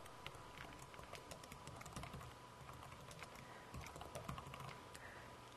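Fast, light typing on a computer keyboard while entering timeline text in Microsoft Word 2007: a continuous run of quiet, close key clicks with a low background hum and no talk.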